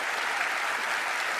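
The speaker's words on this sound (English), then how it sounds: "So we'll give Allison a big round of applause." A stage audience gives a performer named Allison a big round of applause, a dense, steady wash of clapping that fills the whole moment without a pause.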